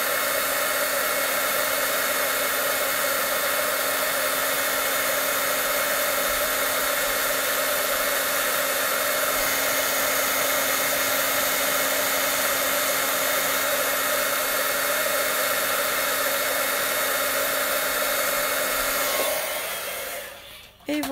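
A heat gun running hot while embossing a snowman greeting card, a loud, constant blowing whir with a steady tone that holds for about twenty seconds before cutting off with a click.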